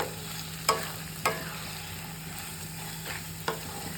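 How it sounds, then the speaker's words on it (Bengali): Paneer bhurji stirred and fried in a pan, with a few sharp spatula scrapes and knocks at irregular intervals over a quiet, steady sizzle and faint background hum. "পনির ভুজি অলমোস্ট রেডি হয়ে গেছে। আমি আরও 5 মিনিট মতো ভালো করে মিক্স করে নেব।"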